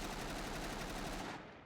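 Rapid, continuous automatic fire from a T20E1 rifle in Enlisted, a dense, evenly paced rattle of shots that cuts off abruptly near the end, close and without talk.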